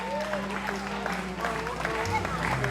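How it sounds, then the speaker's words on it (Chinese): Crowd applause at an outdoor wild ginger flower festival in Mudan Township, Pingtung, clapping and babble of voices mixed with sustained tonal music under a steady, fairly loud wash. "掌声鼓励一下。"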